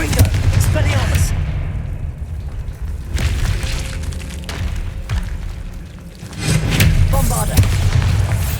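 Confringo fire-blast spells exploding in Hogwarts Legacy combat, repeated booming bursts and crackling impacts over a rumbling low background, with a brief quieter stretch midway and voices talking.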